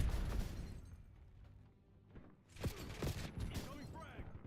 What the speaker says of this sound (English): Cluster grenade set. What? Did it blow up inside?